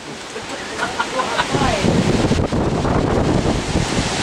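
Strong hurricane wind gusts during Hurricane Sandy in Nutley, New Jersey, buffeting the microphone in loud, roaring surges that build and stay heavy, with faint voices in the background.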